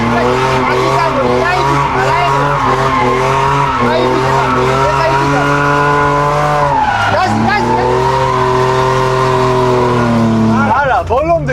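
A car drifting during a lesson roars with a revving, wavering engine and squealing, skidding tires, loud and close throughout.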